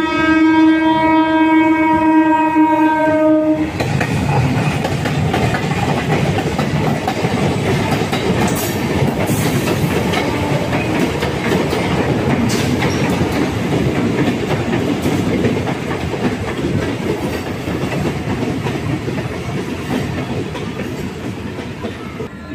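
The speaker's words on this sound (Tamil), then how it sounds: "இப்போ தான் வண்டி நல்லபடியாக சென்னை எக்மோர் பிளாட்ஃபார்ம்லேருந்து டிபார்ட் ஆச்சு." The Pearl City Express pulling out of Chennai Egmore after a loud horn blast at the start, then steady rumbling wheels and clickety-clack of the rail cars rolling on the track, heard from aboard the train.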